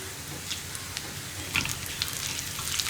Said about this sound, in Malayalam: നമുക്കിതിലേക്ക് കറിവേപ്പിലയും വറ്റൽമുളകും ചേർക്കാം